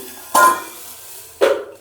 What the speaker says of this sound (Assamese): ঢাকনা দি দিম